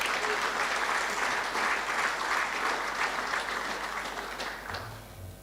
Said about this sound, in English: Can we give all the players that are represented here a round of applause, please?